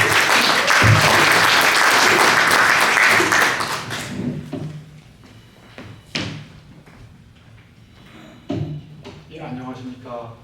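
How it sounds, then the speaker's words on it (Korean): A crowd at a Korean-American New Year prayer breakfast applauds loudly for several seconds, then the clapping fades out, leaving a quiet room with a few thumps and scattered voices. "박수로 모시겠습니다"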